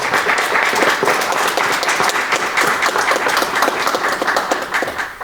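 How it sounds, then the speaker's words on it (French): Audience applause at a municipal council meeting honouring schoolchildren, steady dense clapping from a roomful of people, loud and continuous throughout with no talk over it. "Encore une fois, bravo à tous. On vous applaudit."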